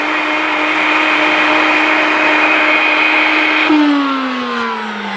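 A NutriBullet blender motor whirs loudly and steadily while blending drinks, then its pitch shifts and winds down as the motor slows near the end, with no talking.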